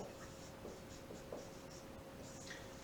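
Pen or chalk writing Sanskrit words, faint scratchy strokes in short runs over a low, steady background hum.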